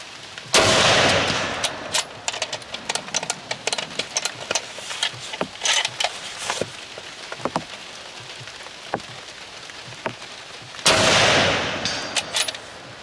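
Barrett Fieldcraft stainless rifle fired at a target outdoors in the rain, two loud sharp shots several seconds apart with many brief cracks and knocks between them over steady rain hiss.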